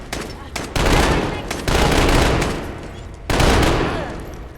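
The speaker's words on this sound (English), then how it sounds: "So noisy. Guess it's gunfire for you." Bursts of rapid automatic gunfire in Fallout 4, loud and dense, coming in three long volleys separated by brief pauses.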